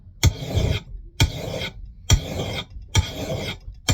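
Steel file rasping along an axe head in four long strokes, each a gritty scrape with a sharp onset, the strokes set about a second apart and heard close up with no talking.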